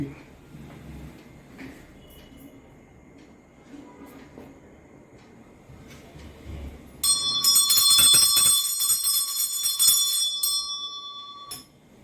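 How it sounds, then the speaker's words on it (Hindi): A low rumbling hum gives way to loud, sustained bell ringing that clangs on for several seconds before cutting off abruptly. "घंटी"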